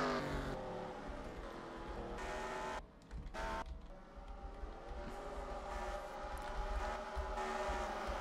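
Race cars roaring past on the Darlington track during a Grand National Series event, engine drones rising and falling in pitch against a loud continuous track din.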